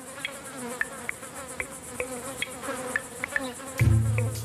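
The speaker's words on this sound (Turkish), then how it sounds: "Bu can sıkıcı sinekler ineklerin cildinde ve gözyaşlarında bulunan mineral tuzlara karşı dayanılmaz bir çekim duyar." Flies buzz continuously around cattle in a green pasture, a steady close insect drone marked by frequent small ticking sounds. A low, heavier rumble rises near the end.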